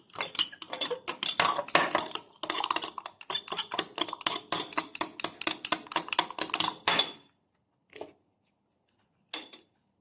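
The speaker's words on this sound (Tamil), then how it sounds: "இவ்வாறு நன்றாக மிக்ஸ் பண்ண வேண்டும்." A spoon stirring charcoal and turmeric face mask paste in a small container makes quick rhythmic scraping clicks for several seconds, then stops, with two brief taps afterward.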